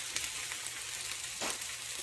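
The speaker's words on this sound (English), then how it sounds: "That's the cheese burning, but that's okay." Steady crackling sizzle of cheese frying in a hot pan, with a couple of brief louder bursts; no talking.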